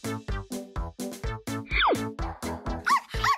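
A small dog yips in a quick run of about a dozen sharp, high barks, close by, with a brief whine in the middle.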